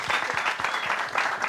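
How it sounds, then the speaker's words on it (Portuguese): Studio audience applause welcoming the band Mary B on a live TV program, a brief burst of dense, moderately loud clapping from a small crowd. "Palmas pros caras."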